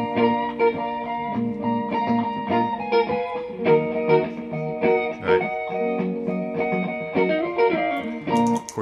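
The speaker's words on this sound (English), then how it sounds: "So the whole thing with the guitar part, John's piano part, the bass line, and the 3-part harmony sounds like this." Looped electric guitar playing a piano part, bass line and three-part harmony together, forming a steady, rhythmic layered chord pattern with a clear pulse, alone and moderately loud.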